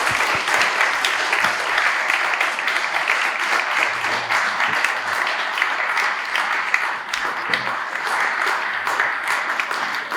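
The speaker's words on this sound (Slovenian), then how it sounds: "Bi prosil en velik aplavz." A large lecture audience breaks into sustained applause after a university talk, dense steady clapping filling the room for the whole stretch without letting up.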